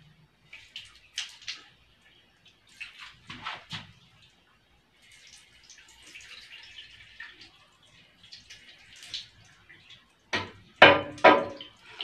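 Collected urine poured over hands in short splashing bursts with pauses between them, ending in a louder, closer trickle.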